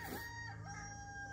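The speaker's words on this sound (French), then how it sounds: "c'est un coq, ce n'est pas une poulette" A rooster crows once, fairly faint and somewhat distant, with no voices around it.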